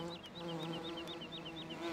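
Bees buzz steadily in Farming Simulator 17, a close, continuous drone with a warbling higher whine that rises and falls in a regular repeating pattern.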